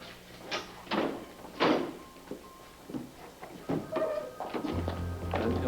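Hospital doors swing and thunk open as a stretcher is rolled through, several dull knocks and bumps spaced across a few seconds, with faint movement and a low hum beneath.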